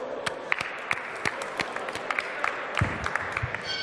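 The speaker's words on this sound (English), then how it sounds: "Please welcome all the guests on stage with your applause." Conference audience at a startup fair panel on accelerators applauds to welcome guests onto the stage, a steady wash of clapping with sharp individual claps standing out, moderately distant and sustained throughout.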